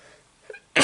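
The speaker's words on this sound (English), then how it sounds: "I have to sneeze." A single sharp sneeze from a person erupts at the end, following a brief faint intake of breath.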